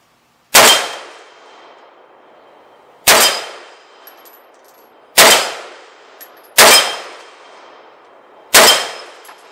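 Five sharp rifle reports from a CMMG Endeavor .308, each landing on a steel circle target with a bright clang that rings and fades, spaced a couple of seconds apart.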